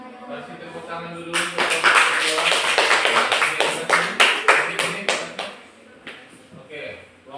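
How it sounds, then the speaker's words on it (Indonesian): Students in a classroom clap after a group presentation: talk first, then a burst of sharp, close clapping that gradually thins into scattered individual claps, with voices continuing afterward. "Kasih tepuk tangan dulu."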